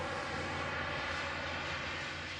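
Freewing Zeus 45NT turbine RC jet on its maiden flight making a low pass with gear down, a loud, steady whooshing turbine roar holding at close range without any break.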